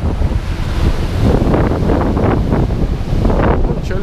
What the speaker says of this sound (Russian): мы уже плавно подходим к морю, которое сегодня разбушевалось не на шутку.